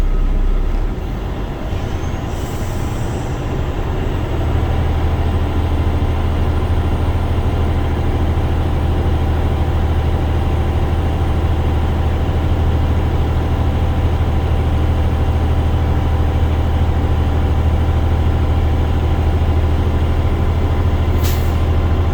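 Class A tractor-trailer diesel engine with an Eaton 10-speed transmission idles at a raised 1200–1400 RPM while its air brake system builds pressure, a steady loud low rumble with a brief air hiss near the start and end.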